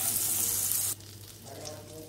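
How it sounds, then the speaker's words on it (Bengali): Two spoons of butter hit a hot kadai still slick with oil from frying chicken, giving a loud bright sizzle that cuts off sharply after about a second, leaving a quieter, softer frying hiss. "বাকি যে তেলটা ছিল সেটা তুলে নিয়ে 2 চামচ বাটার দিলাম"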